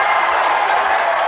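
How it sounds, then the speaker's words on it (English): A large crowd in the Penn and Teller Theater cheers and roars at a World Series of Poker Main Event final table, a dense, steady wall of cheering and applause that holds throughout. "a huge cheer goes up in the Penn and Teller Theater for Russell Thomas"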